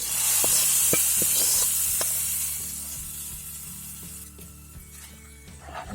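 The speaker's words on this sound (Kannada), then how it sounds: "ಒಗ್ಗರಣೆ ಹಾಕ್ತಿದ್ದೀನಿ." Spices crackle and sizzle in hot oil for a tempering for mango gojju, with loud broadband frying hiss over several sharp pops and stirring clinks, gradually settling down.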